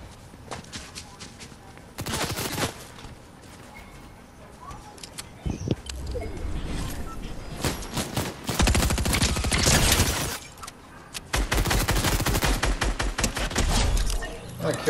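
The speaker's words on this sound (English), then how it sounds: "People over here shooting." Video game gunfire in a squad match: repeated bursts of automatic fire and single shots at varying distances, loudest in clusters near the middle and end, with faint voices underneath.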